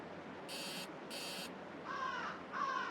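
Crows cawing in a shrine horror video game, two sharp synthetic caws followed by two lower, rougher caws, spaced evenly over a constant hiss of background noise.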